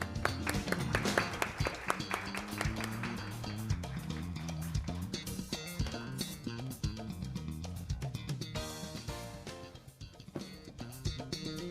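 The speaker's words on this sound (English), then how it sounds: "Please send a warm applause with our heartfelt wishes for peace on the Korean Peninsula" Audience applause fills a large conference hall at an international academic summit on Korean Peninsula peace, a dense, steady wash of many hands clapping throughout, with music or background sound layered in and a brief dip near the end.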